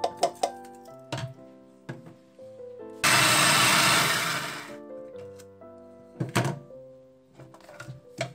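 Small kitchen food chopper grinding cookies, a loud burst of whirring for about two seconds, framed by scattered thumps and knocks of the bowl and lid.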